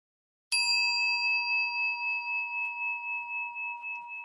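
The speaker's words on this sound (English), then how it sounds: "listen to the sound of the meditation bell" A single bell is struck once and rings out with a clear, pure tone that slowly fades while sustaining, alone in a quiet space.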